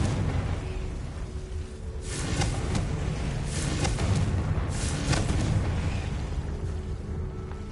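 Incendio and Confringo spell blasts in the Hogwarts Legacy video game on PS5 give loud bursts and booms over continuous dense rumbling, with several sharp cracks in the middle.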